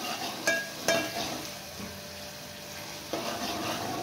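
Asafoetida goes into hot oil in a pan for Maharashtrian kadhi, bringing a steady close sizzle with a few sharp utensil clinks early on and a soft tap later.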